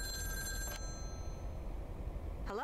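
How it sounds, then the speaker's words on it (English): A telephone trills in short ringing bursts inside a home in the Lake video game, set against a low steady background hum, with a second ring starting just as the clip ends. "The phone rings."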